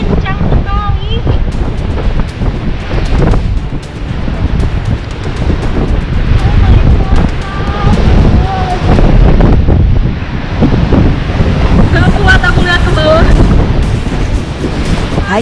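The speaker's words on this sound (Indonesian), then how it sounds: "Anginnya sangat kencang sekali." Strong, steady wind roars across the microphone on a seaside cliff, loud and constant with surf rumbling underneath and muffled speech faintly mixed in.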